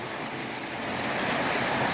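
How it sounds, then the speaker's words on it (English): Khun Korn waterfall in the mountains of Chiang Rai, northern Thailand, heard from its base as a loud, unbroken roar of rushing water that builds slightly, with no one speaking. "We are hiking up a waterfall. This is the base of it."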